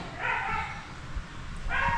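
A dog barks twice, separated by a pause of more than a second, somewhat distant over a steady background hum.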